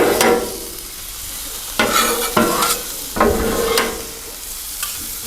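Shrimp and vegetables cooking on a flat griddle: a steady sizzle broken by several sharp scraping spatula strokes and clacks at close range, with no voices.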